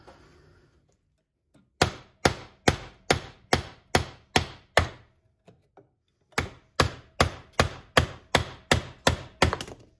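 A Bush Hunter knife chops repeatedly into a 2x4 wooden board, a run of seven sharp, evenly spaced woody thwacks, a short pause with a couple of light taps, then another quick series of strikes, close and loud.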